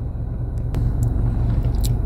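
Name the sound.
inside a car at night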